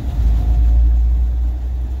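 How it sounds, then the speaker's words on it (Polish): A pre-facelift green BMW E34 drives up, its engine a loud, steady low rumble close by, with no talking. "BMW już jedzie."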